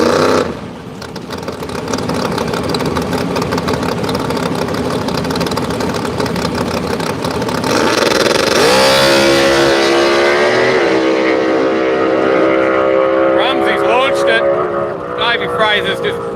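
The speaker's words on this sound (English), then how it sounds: "Fraser's just blowing the tyres on the start line" Radial drag cars at a Willowbank, Australia drag strip, one blowing its tyres on the start line: loud continuous engine roar swelling into a howling, pitch-shifting rev, with a commentator's voice over it.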